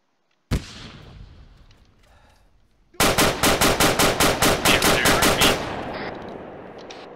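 A single sharp blast goes off in Arma 3 Vietnam, followed about two seconds later by a loud, rapid burst of automatic gunfire, a dozen or so rounds in a steady rhythm, close and dominant with no talk.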